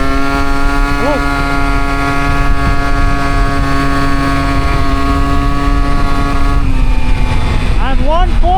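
An Aprilia SR50 scooter with a 70cc kit, being run in, holds a steady, loud buzzing drone up close, then revs up with rising pitch sweeps near the end.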